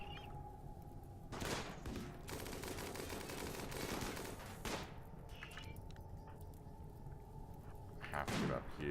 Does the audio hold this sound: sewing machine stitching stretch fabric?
no